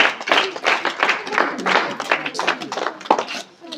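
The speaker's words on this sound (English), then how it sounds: "Yeah, clap them, clap them." Classmates clap in a school assembly during debate practice, a dense run of hand claps for about three and a half seconds with voices mixed in underneath.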